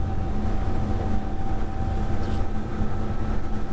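Twin engines of a Duchy Sport wakesurfing boat on a sea trial, throttling up past 3,000 RPM: a steady, loud, broadband drone with a constant engine whine and churning water, no voices over it.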